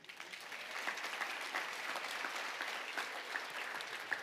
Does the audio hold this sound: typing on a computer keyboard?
no